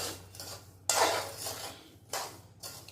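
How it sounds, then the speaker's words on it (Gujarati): Peanuts stirred while roasting over low heat in a pan, making a dry rattling scrape that comes in three bursts separated by short pauses, close and with no talking. "બીજા દાણા છે ને એમાં નાખી દઈએ શેકવા માટે સરસ હલાવી દઈએ"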